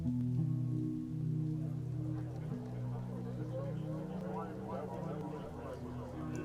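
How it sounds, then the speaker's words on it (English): Soft rain patter forms the transition between songs on an album, a quiet wash of drops beneath sustained musical tones. "Back to the rain for this transition."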